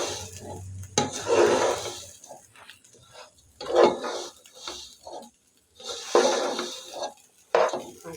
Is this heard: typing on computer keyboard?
no